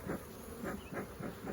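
Dense, steady buzzing of honey bees swarming around an open hive with burr comb and honey exposed, a continuous close hum that swells in soft rhythmic pulses.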